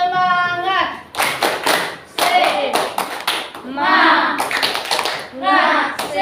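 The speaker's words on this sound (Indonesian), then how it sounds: "Tepuk semangat." A primary school class in Solok claps a rhythmic spirit clap, sharp unison bursts of hand claps in short patterned groups alternating with a teacher's voice and children's chanted replies, close and loud.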